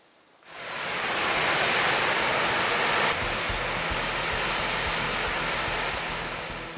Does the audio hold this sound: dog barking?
no